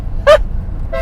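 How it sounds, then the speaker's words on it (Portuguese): Horn of a 1988 Renault 25 V6 Turbo, which sounds like a market vendor's van: two short toots, the first loud and close, the second shorter and cut off, over low street rumble. "A buzina é tipo daqueles carros de feira, olha lá o que é. Ouçam isto."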